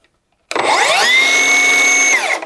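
A cordless circular saw runs free without cutting. The motor whines up to speed, holds a steady high-pitched drone for about two seconds, then winds down, loud and close.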